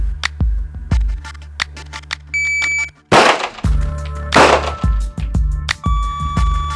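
Sharp gunshot-like bangs at a shooting duel with a police officer crack out amid metallic clanks and a short electronic beep tone, loud and close, with no talking.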